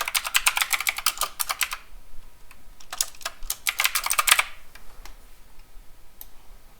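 Rapid bursts of typing on a computer keyboard while setting up a FreeCAD configuration spreadsheet, two dense runs of clicky keystrokes separated by a brief pause, then a few scattered taps, close and clear with no talk.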